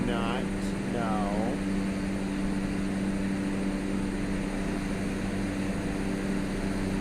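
A steady propeller-engine drone of an airplane cruising in Microsoft Flight Simulator 2020, constant and fairly loud throughout, with a brief tonal chirp near the start.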